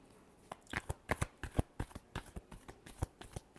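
Tarot cards being shuffled by hand in a run of crisp, rapid riffling bursts with irregular rhythm, close and fairly quiet, with no voices.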